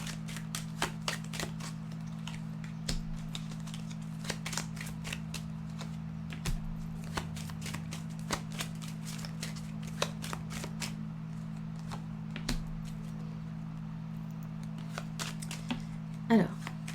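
Oracle cards being shuffled and drawn, a run of soft, rapid card flicks and taps over a steady low hum, with a few sharper snaps near the end; a voice speaks over it.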